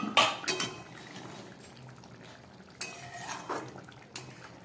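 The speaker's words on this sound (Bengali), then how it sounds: "এবার ঢাকাটা খুলব।" A metal lid is lifted off a cooking pot of dhokar dalna in a home kitchen, giving a sharp clink and clatter at the start, then quieter scrapes and a few light metallic taps.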